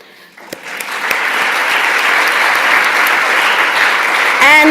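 Summit audience applauding at the close of a thematic session, the clapping rising quickly from near silence into a dense, steady wash of many hands that holds loud to the end.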